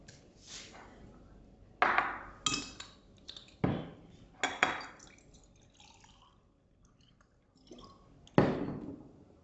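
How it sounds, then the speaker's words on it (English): Glass and utensil clinks with water dripping and sloshing as someone grabs a drink of water, several sharp clinks and taps spaced over a few seconds, close and fairly quiet, with no talking. "Just grab water."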